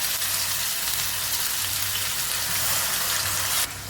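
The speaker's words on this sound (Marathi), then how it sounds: "आणि परतून घेऊया अगदी तेल सुटेपर्यंत" Ground masala paste sautéing in hot oil with cardamom, cloves, peppercorns and cinnamon: a dense, even sizzle like light rain, with a low hum underneath, ending abruptly.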